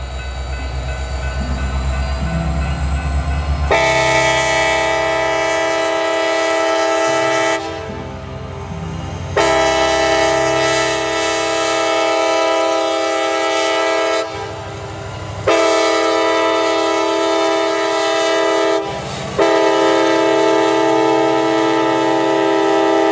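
Train 370 pulls out of a siding with loud, drawn-out horn blasts in a long-short-long pattern, separated by brief pauses over a low rumble of the engine and rolling cars; nobody speaks.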